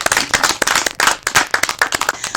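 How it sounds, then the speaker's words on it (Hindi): An audience at a Republic Day poetry gathering claps for India in strong, rhythmic bursts, loud and close with brief dips between waves of hand claps and no talking over it. "तो भारत देश के लिए एक बार जोरदार तालियां।"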